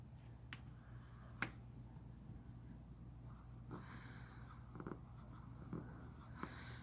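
A pencil writes cursive on paper during a second-grade dictation exercise, giving quiet, close scratching strokes in short intermittent bursts with small taps between them.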